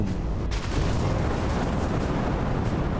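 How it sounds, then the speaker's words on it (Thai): Meteor blast from Jogo's attack in a Jujutsu Kaisen video game, a loud, dense rumbling roar that fills the whole stretch with a brief dip near the start, standing alone without talk. "เรียกอุกกาบาตลงมาใช่ไหมแล้วขึ้นเป็นอุกกาบาตนะครับ"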